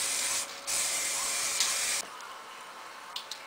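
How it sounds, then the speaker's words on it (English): An aerosol can sprays in steady hissing bursts, with short breaks between them, fairly close, followed by quieter intermittent puffs. "now I'm just spray painting over the top"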